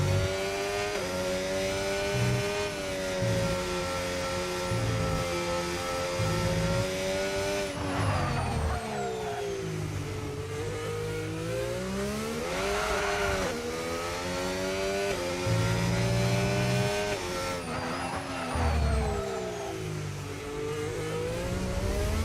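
Formula 1 cars lap the circuit during pre-season testing in Bahrain, their high-pitched engines whining loudly as they rise and fall through gear changes, with several passes under a constant background roar.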